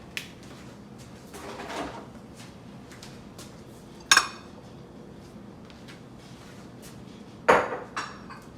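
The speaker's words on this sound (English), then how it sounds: "Get all my dishes out of the way" Dishes set down into a kitchen sink while baking a chocolate pecan pie: two sharp clinks, one near the middle and a louder clattering one near the end, over low background rustle, no talking.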